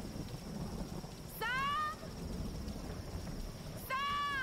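Steady rain hisses through a thunderstorm in the Tomb Raider video game, a constant wash of noise broken by two short tonal calls.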